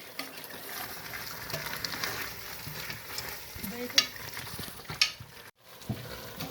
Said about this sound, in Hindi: भुनाई करके फिर ये वाला मसाला जो मैंने ग्राइंड किया ना, जो टमाटर और हरी मिर्च लहसुन अदरक, वो थोड़ी सी भुनाई कर लूँ